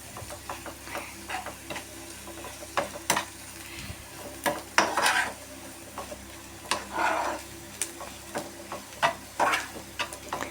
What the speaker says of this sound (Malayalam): അപ്പോൾ ഇളക്കിക്കൊണ്ടിരിക്കുന്നുണ്ട്.